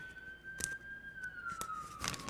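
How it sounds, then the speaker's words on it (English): Ambulance siren passing outside, a single wavering tone drifting slowly downward, faint and distant, broken by a few sharp clicks nearby. "Sorry if you hear ambulance going by."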